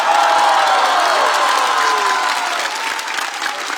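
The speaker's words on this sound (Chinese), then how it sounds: "我们再次把掌声送给今天优秀的表演者们" A studio audience at a comedy roast show gives the performers loud, sustained applause with cheers and whoops, steady throughout and fading slightly toward the end.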